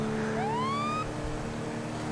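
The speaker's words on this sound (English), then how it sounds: "Stop putting your damn sirens on." Police car siren from the GTA Online video game, a rising wail that sweeps upward for about a second over a steady engine hum, then cuts off while the car's motor drone continues.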